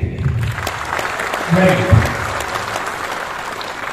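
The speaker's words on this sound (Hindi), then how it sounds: "16 ताली बजाएंगे" An audience claps at a gathering, a continuous patter of many hands that swells slightly midway, with someone speaking over it.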